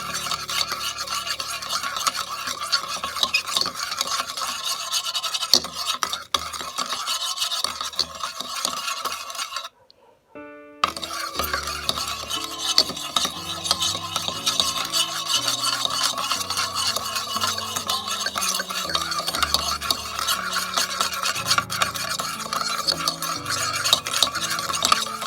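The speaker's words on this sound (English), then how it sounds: "Mix it till it turns into a white or a creamy color." Dalgona whipped coffee being whisked by hand in a bowl until creamy, rapid continuous scraping and stirring strokes up close, pausing once briefly before resuming at the same brisk pace.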